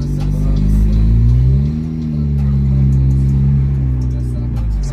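A car engine idles through a stainless steel 304 exhaust diffuser with remote-controlled activation, a loud, close, steady low rumble whose pitch dips slightly and then settles, heard alone.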